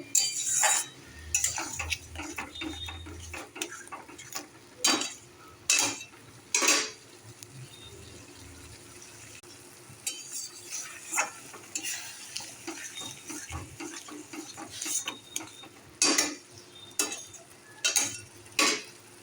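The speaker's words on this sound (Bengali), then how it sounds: "আমি ঢেকে রাখাটা খুলেই নাড়ালাম পরিমাণ মতন।" Prawn curry with spices being stirred in a pan, with intermittent scraping and clinking of a utensil against metal, soft bubbling underneath and irregular bursts of stirring, close and moderately loud without speech.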